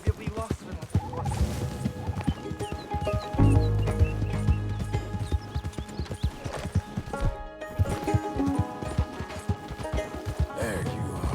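Hooves clip-clop steadily through a Red Dead Redemption 2 scene as a runaway horse moves about, close and fairly loud, mixed with game music and occasional voices, with a heavier rumble around the middle.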